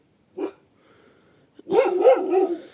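A dog barks once sharply, then after a pause gives a longer run of yapping, whining barks, close and clear in a quiet rural yard where young goats are kept.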